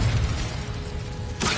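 An Incendio fire spell cast in Hogwarts Legacy on PS5 bursts out as a loud, dense, roaring whoosh of flame with a crackling edge, holding steady for over a second before flaring up again.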